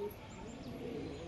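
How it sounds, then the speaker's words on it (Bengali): A male pigeon coos in low, steady murmurs at close range, with faint chirps from other birds overhead and a continuous background hum. "এই হচ্ছে নর কবুতর"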